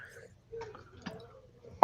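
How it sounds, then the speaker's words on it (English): Stout beer poured into a glass gives sparse, soft liquid drips and gurgles close by, then a sudden louder splash right at the end. "This is just my stout I'm pouring"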